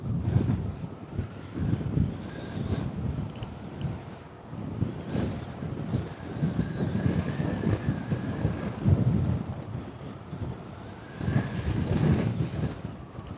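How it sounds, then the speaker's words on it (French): Strong wind hits the microphone during a night ride on a Segway GT3 Pro, rumbling in heavy uneven gusts that come and go in surges and stay loud throughout. "il y a trop de vent"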